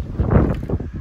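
Wind gusting outdoors on Maui, a steady low rushing buffet against the microphone that swells briefly near the middle and then eases, with no talk.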